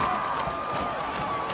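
Spectators at a high school varsity football game, West County at home against Santa Rosa, roar in a steady, distant wash of crowd noise and cheering, with a tonal whistle-like hum running through it.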